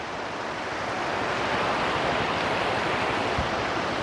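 Steady rushing flow of the Candice River in Barangay Ransang, Rizal, Palawan, a constant broadband wash of water with no voices.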